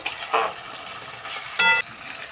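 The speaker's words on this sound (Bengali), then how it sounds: "এবার এই মশলাটাকে ভালো করে আমি কষিয়ে নেব" Ginger-garlic paste spice mix stirred and fried in a pan for a homestyle chicken curry, with a steady low sizzle under a few sharp scrapes and clinks of the spoon against the pan, close and alone.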